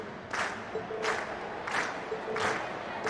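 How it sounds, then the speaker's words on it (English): A video game crowd in Trails of Cold Steel cheers and claps in rhythmic bursts roughly every second, fairly faint and distant, with no voices standing out. "we've heard your cheers loud and clear"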